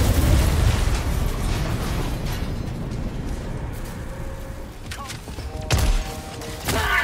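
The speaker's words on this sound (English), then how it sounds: "I wasn't sure how to take down this tank, so I thought grenades would do it nicely" Grenades going off against a tank in Helldivers 2, a loud rumbling blast at the start that slowly decays into battlefield noise, followed by two further sharp, closer bursts near the end.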